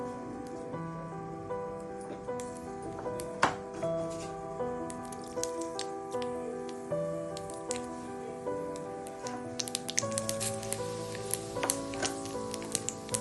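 Curry leaves tempering in hot oil with mustard seeds for Marathi Ravan bhat, a steady close sizzle with scattered crackles and pops, heard alone under strong musical tones.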